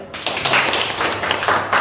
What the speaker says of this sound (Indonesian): Coba berikan tepuk tangan dulu